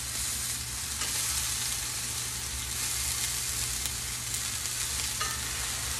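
Chicken and shrimp searing in a hot pan while being pressed down with tongs, giving a loud, continuous sizzle with occasional faint clicks, close up and without speech.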